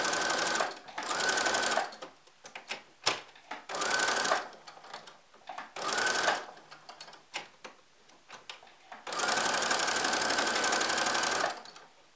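A sewing machine stitching a fleece hat with ear flaps, running in several loud bursts of rapid rattling separated by pauses and softer clicks, the longest run near the end, with no voices.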